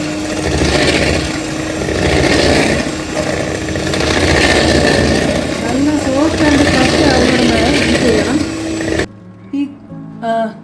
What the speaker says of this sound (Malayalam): നമുക്ക് ഈ ഇലക്ട്രിക് ബീറ്റർ ഉപയോഗിച്ച് ഇത് നമുക്ക് ബീറ്റ് ചെയ്തെടുക്കാം